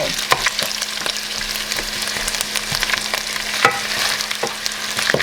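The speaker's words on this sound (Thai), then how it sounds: "ผัดไปเรื่อยๆ แบบนี้นะคะ" Savory pork filling for khanom thian being stir-fried, a loud steady sizzle punctuated by regular scraping and clacking of the spatula against the pan, close up with no voices.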